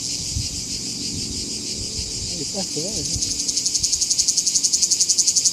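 A cicada sings at close range, its loud, buzzing drone filling the clip and breaking into a rapid pulsing rhythm toward the end, with a person speaking briefly over it.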